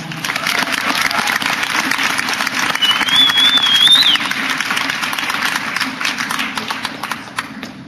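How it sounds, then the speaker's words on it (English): Applause from the audience at a para-equestrian awards ceremony, a steady crowd of clapping hands that swells near the middle and then tapers, with a brief whistle rising over it. "Please give her a warm round of applause."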